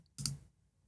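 One short, close click from a computer mouse in an otherwise quiet setting.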